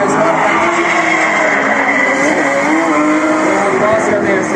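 Drift cars run a tandem drift at a drift festival, their engines roaring loud and sustained with wavering pitch and tire noise, while a commentator talks over the din.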